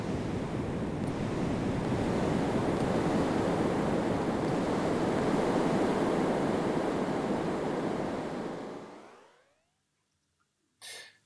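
A feedback delay diffuser reverb with diffusion turned up gives a dense, steady wash of noise-like sound, like rushing surf, that holds for about nine seconds, then fades away quickly into silence before a brief soft burst at the end.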